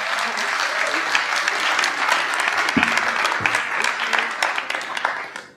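A convention audience in Amsterdam applauds steadily, dense clapping from a sizable crowd filling the room for several seconds before fading out at the end.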